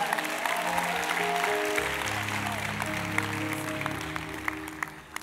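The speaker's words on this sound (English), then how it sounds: "Give the Lord a clap offering" A church congregation at a conference service gives a clap offering, broad applause running throughout while a sustained music or organ tone plays beneath, sharper claps poking out near the end.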